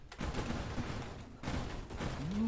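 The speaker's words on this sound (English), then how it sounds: "My wingman will now shoot railgun stuff" Wingman craft firing railgun shots in the space shooter Nova Drift, a dense run of rapid blasts and crackling impacts over busy game noise, with a rising tonal sweep near the end.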